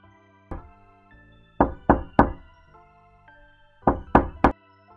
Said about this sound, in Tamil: சில நிமிடங்களிலேயே கதவு தட்டும் சத்தம் கேட்டது